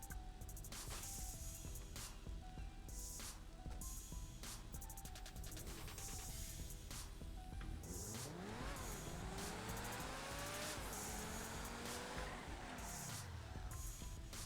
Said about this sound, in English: are going to accelerate up until 200 km and we're going to brake back to zero